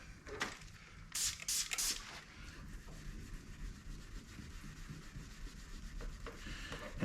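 Wet sanding thin factory paint on a car panel around a scratch with barely any pressure, producing soft close rubbing and scrubbing strokes with a few brighter swishes near the start.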